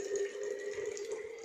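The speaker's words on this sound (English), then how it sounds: "So first I'll be pouring water." Water poured steadily into a glass bottle, a continuous close splashing stream with a resonant tone as the vessel fills.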